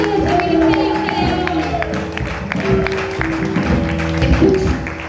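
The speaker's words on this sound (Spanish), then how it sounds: "Aplaude la iglesia." A church congregation applauding during a Spanish-language healing service, loud rhythmic clapping and cheering from the crowd with a sustained musical or organ-like tone underneath.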